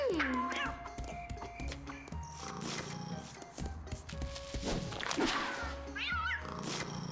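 Cats meow in the video game Wakfu, several short tonal meows and calls scattered over busy game music and effects.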